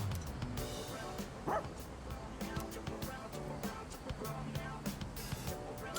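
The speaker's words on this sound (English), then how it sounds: "Stray dog that chased that boy around a little while ago." A stray dog in the video game Persona 3 Reload barks, yips and whimpers in short repeated bursts over a busy background of game music and noise.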